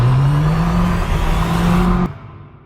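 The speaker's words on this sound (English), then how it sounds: "we do an accidental wheel spin here?" A BMW 118i F21 spinning its wheels at night: a loud, steady engine drone with a strong hum holds close for about two seconds, then cuts off abruptly into a quieter tail.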